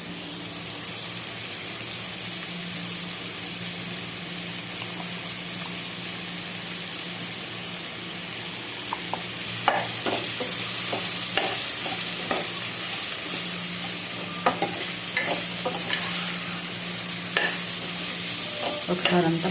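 A paste of dried coconut and ground garlic, with a little coriander powder, frying and sizzling in a pan for an eggplant curry as a spoon stirs it, scraping and clinking in bursts over a steady sizzle, with no talking.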